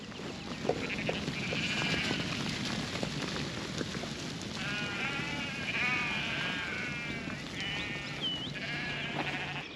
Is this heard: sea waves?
no